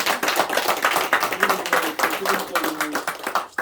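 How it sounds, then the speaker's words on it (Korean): A church congregation at a Sunday morning service claps together, a thick wash of many hands lasting several seconds, with a voice speaking over the applause. "우리 박수 한번 하겠습니다"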